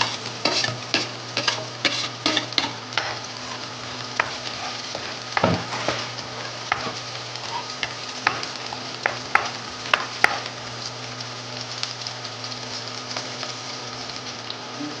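Garlic sizzles and fries after onion in a pan for pork and squid adobo, with steady close crackling and repeated sharp stirring scrapes and clacks of a utensil throughout, no talk.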